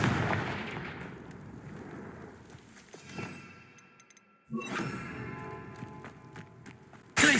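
Confringo fire spell blasts in the video game Hogwarts Legacy: sharp bursting impacts, one midway and a heavier one soon after, then a loud burst at the end, over rumbling game ambience and scuffling steps.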